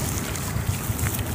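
Cool wind blowing by the lake at Hidrolândia, Goiás, producing a steady, loud rumble of gusts against the microphone with no talking.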